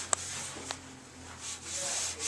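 An old Fibertex pad scrubs wax remover across a ski base, giving a soft, close rubbing sound after a brief click, with no talking.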